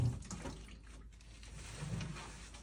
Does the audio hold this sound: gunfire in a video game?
no